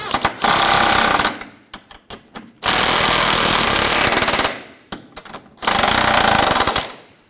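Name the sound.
tightening sway bar bracket nuts on a 2004-2009 Audi A4 Quattro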